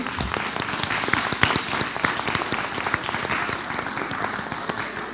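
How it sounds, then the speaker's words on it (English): An audience at a school board of education meeting gives a steady round of applause for the orchestra, dense overlapping claps holding at an even level throughout. "Let's give the orchestra one more round of applause, if you would."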